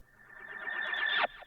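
A riser effect built from rising white noise swells steadily louder for over a second, with bright tonal streaks sweeping upward, then cuts off abruptly near the end and leaves a brief falling tail.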